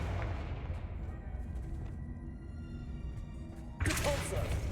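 The Confringo blasting spell in Hogwarts Legacy, a sudden loud burst of impact near the end following a low rumbling game background.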